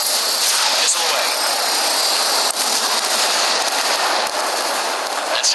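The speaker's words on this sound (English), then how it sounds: "Missile away." A missile roars away from a fighter jet in the Ace Combat flight game, a dense, loud rushing hiss over steady engine noise that holds for several seconds.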